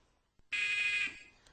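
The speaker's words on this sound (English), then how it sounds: "the buzzer will mark the start and the end of the game" A quiz game buzzer during an English grammar lesson gives one loud, steady electronic tone lasting about half a second, standing alone against near silence.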